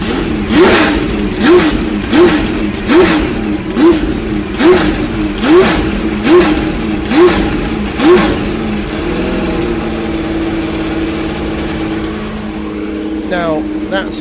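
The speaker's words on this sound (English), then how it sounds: "that's a nice sound, isn't it? We're standing behind what I think is a Porsche 962 in martini colours" A Porsche 962 race car in Martini livery with a flat-twelve engine revs hard at the Goodwood Festival of Speed, a rhythmic series of about nine sharp blips rising and falling, then a steadier idle with a brief voice near the end.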